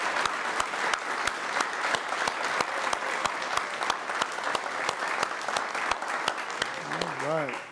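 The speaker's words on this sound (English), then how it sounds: "let's give him a round of applause" Congregation applauding at a church service after a confirmation, steady clapping from many hands through the whole stretch with some sharp nearby claps, and a voice beginning to speak near the end.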